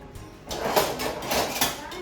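A kitchen drawer slides open during carrot cake baking, followed by a few light clatters and knocks of a spoon being taken out, close and moderately loud with no talk.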